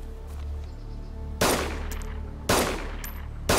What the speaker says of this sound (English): that's why I'm getting shot at